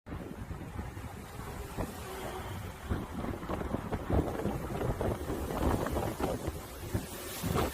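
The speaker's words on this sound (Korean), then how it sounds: "바람이 엄청 세지기 시작했어요." Strong typhoon wind (Typhoon Chan-Tu) buffets the microphone on Jeju Island, a continuous rough roar with gusty surges that grow louder toward the end.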